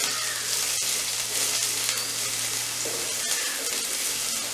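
Chopped large onion dropping into hot oil with cinnamon, cloves and cardamom for a Jaffna-style anchovy biryani in Sri Lanka, giving a steady close sizzle and frying crackle with faint stirring throughout, no voices.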